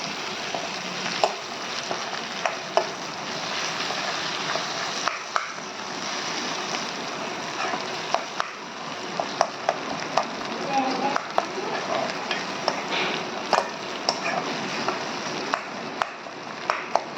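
Mashed boiled potato is stirred into a pan, a soft sizzle running underneath as a spoon scrapes and taps against the metal in scattered, irregular clicks, with a voice talking over the cooking.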